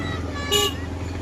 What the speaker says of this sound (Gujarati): જુઓ તમે ટ્રાફિક કેટલું હશે